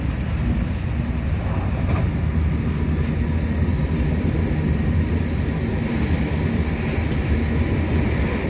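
A loud, steady roar and rumble of a 223 and 225 series electric rapid train running at speed carries on without a break, a constant rail noise with faint rattling on top.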